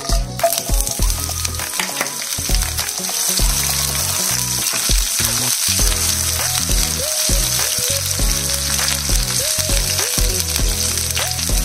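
Mustard seeds, cumin, dried red chillies, four garlic cloves and half an onion sizzle steadily in hot oil for a beans tempering, a loud, continuous frying hiss with small crackles throughout and no talking.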